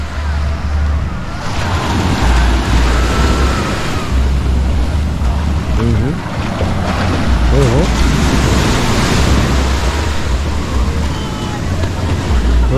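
Strong ocean waves roll and crash at a beach with swimmers, a continuous loud surf roar joined by gusty wind, while people talk and shout excitedly over it.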